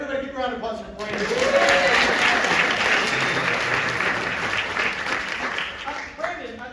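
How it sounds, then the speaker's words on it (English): Audience applause at an improv comedy festival, rising quickly after a short spoken bit and holding as a dense, loud clatter of clapping from a crowd before tapering as a voice returns. "Everybody give a round of applause for Brandon."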